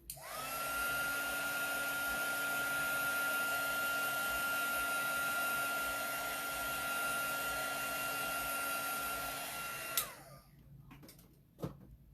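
Handheld blow dryer running steadily at close range to dry a transfer, a loud even whine with a constant airflow roar for about ten seconds, then switching off and winding down, followed by a couple of faint clicks.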